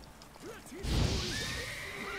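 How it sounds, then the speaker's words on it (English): Horses neighing in the video game Dying Light 2, several rising whinnies one after another with hoof clatter and a thud midway, a faint game tone sustained underneath. "Get off your horses"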